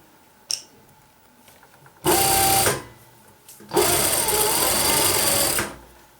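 A sewing machine stitches after its thread tension is tightened and its stitch length increased, running in two loud, steady, whirring bursts separated by a brief pause.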